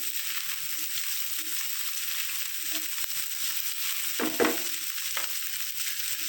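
Chopped garlic fries in oil in a pan with a steady, close hiss of sizzling, broken by a few brief stirring scrapes and clatters near the end.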